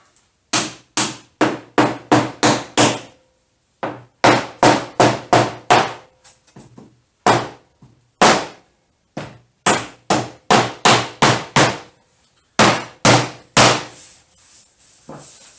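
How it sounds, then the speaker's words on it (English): Loud, sharp hammer blows strike laminate office chair mats in quick rhythmic bursts, with short pauses between runs of strikes; no talking. "Still gonna need the hammer."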